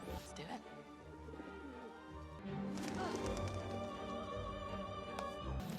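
Homing pigeons coo softly in a loft, low throaty calls mixed with faint wing and shuffling noises beneath a steady backdrop of music.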